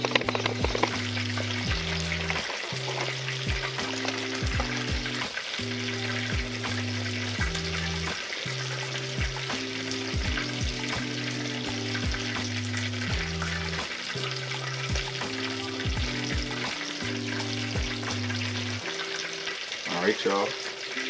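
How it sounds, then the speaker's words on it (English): Steady sizzling and crackling of chicken frying in hot oil, continuous throughout, with a low repeating hum in the background. "You feel them frying, they frying perfectly fine."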